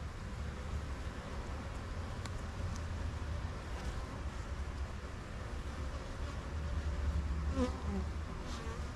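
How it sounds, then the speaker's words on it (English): A continuous low buzzing of many honey bees swarms close by at an open hive during a hive split, steady and droning throughout, with some wind rumble underneath. "I see little clumps of bees here and there."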